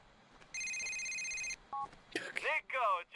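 Electronic mobile phone ringtone from a video game, a steady tonal ring lasting about a second, followed by a brief beep, then people talking and laughing loudly over it.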